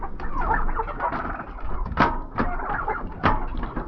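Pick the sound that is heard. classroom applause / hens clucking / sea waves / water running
hens clucking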